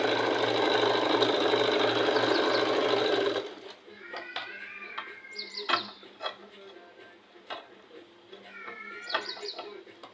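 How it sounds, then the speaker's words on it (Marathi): A sewing machine runs in a steady, loud whir while stitching a quarter-inch seam on folded fabric, then stops, leaving softer handling noises and a cat meowing nearby. "आता अशा पद्धतीने फोल्ड करून मी पाव इंचावरती शिलाई देत आहे"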